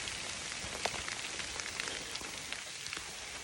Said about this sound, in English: been steady raining for the last 45 minutes of my hike here